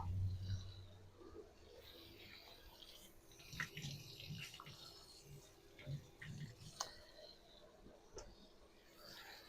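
Mushrooms are rinsed under a running kitchen tap, with a faint, steady wash of water and a few soft splashes and knocks low in the room.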